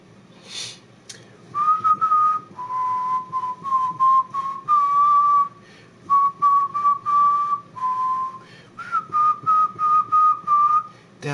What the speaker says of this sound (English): Damn, I sound terrible when I whistle.